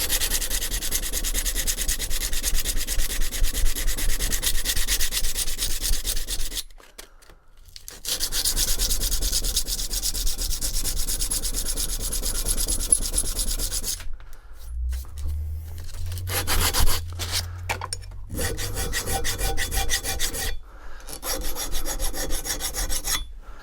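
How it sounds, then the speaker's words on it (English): Quick sandpaper breaks the sharp edges on a Winchester 370 shotgun, close and continuous, in long rasping runs broken by short pauses, with some low bumps of handling partway through. "just breaking some sharp edges with some quick sandpaper, nothing chaotic"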